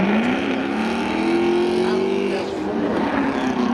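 A Pontiac Fiero launches in a drag race at Seekonk Speedway, engine whine climbing and holding loud against the roar of a second car, with an announcer's voice partly audible.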